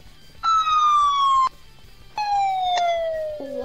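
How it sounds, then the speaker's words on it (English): Police sirens sound in two long descending wails, loud and close, separated by a short gap, with no one speaking. "I still remember the sirens in my head."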